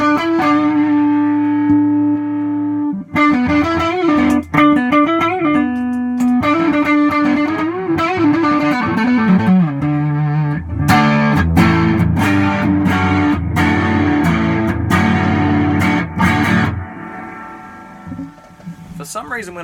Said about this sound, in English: Flick the old big muff on.